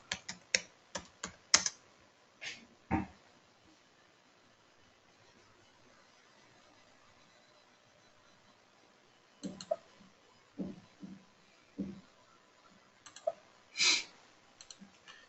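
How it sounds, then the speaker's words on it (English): Keys clack on a computer keyboard as a transaction code is entered in accounting software, a quick burst of taps at the start, then a pause, then another scattered run of keystrokes, close and clear in a quiet room. "By mistake, I typed F.39."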